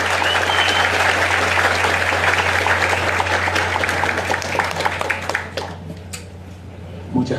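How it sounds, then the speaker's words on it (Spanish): An audience at a political gathering gives sustained, loud applause for Ángel Lockward, the dense clapping thinning out and fading toward the end, with a low steady hum beneath. "Por favor, un fuerte aplauso a Ángel López."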